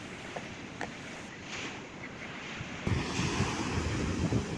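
Strong wind buffets the microphone at Besant Nagar beach while sea waves surge and wash in the background, growing louder toward the end, with no voices heard.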